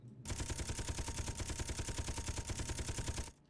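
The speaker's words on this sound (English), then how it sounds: "We can grab up the 25 millimeter sentry and shoot it once." A 25 millimeter sentry turret from a Space Engineers weapons mod fires a long, loud, rapid burst, the shots evenly spaced in a steady rattling stream before stopping abruptly.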